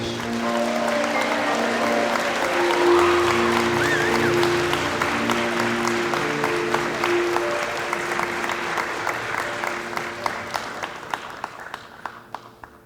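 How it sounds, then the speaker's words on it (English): An audience at a college honors night service and leadership award ceremony claps for student volunteers; loud sustained applause that thins toward the end into a few scattered claps. "Please give a round of applause to these students for their volunteer efforts and service at Orange Coast College"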